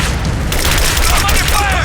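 Gunfire and explosions from enemies in Rise of the Tomb Raider make a dense, loud barrage of booms and crackling shots that roar continuously up close, with shouted voices mixed into the chaos.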